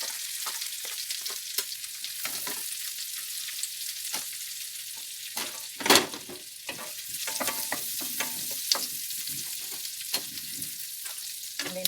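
Onion fries in butter in a pan for an omelette, producing a steady crackling sizzle with scattered pops and one louder clatter partway through. No one speaks.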